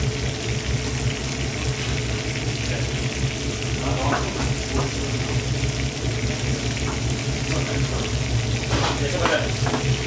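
Mushrooms, onions and leek frying in a pan: a steady, close sizzle runs throughout with occasional clinks and stirring scrapes.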